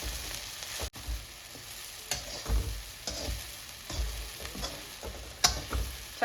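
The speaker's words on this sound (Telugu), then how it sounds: "చక్కగా వేయించుకోవాలి" Chili bajji fry in hot oil with a steady crackling sizzle, broken by a few louder pops and a short stirring clatter, close and with no talk.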